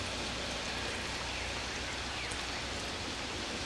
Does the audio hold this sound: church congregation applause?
no